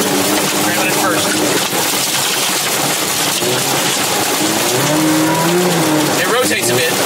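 A Toyota AW11 rallycross car accelerates hard on gravel, engine straining loud and close with rising revs and tire scrabble, while people talk over it.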